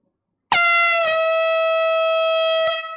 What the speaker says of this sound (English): those fresh air horns, even with this thing gone, kind of like rattles my eardrums